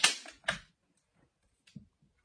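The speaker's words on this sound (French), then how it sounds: "J'appuie mon agrafeuse sur mon canage et je pousse vers l'extérieur." A staple gun fires staples through cane webbing onto a chair, two sharp close snaps in quick succession followed by faint handling clicks.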